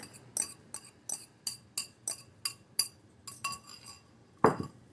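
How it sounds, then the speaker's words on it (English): A single large egg is whisked with a fork in a bowl, giving a quick regular series of light clinks against the side, about two per second, close and alone. "So beating an egg right here in the bowl"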